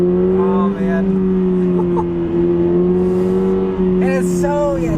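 A 2022 Toyota GR86 sports car hums through a run of corners, its engine note held steady and loud from inside the cabin, with brief voice sounds over it.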